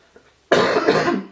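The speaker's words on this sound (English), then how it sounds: "I'm still trying to shake this cough" A single hard cough bursts out after a near-silent lead-in, loud and close, trailing off over about a second.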